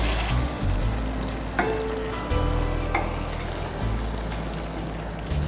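Fish curry stirred in a pot with the heat turned off, a low continuous scraping and swirling texture with a few brief clinks, close and steady, with no talk.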